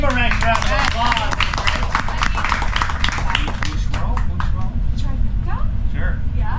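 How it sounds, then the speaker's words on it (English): Audience at an improv workshop on a cruise ship claps in a dense, steady burst of applause lasting several seconds, with many overlapping hand claps fading slightly toward the end. "So give them a round of applause."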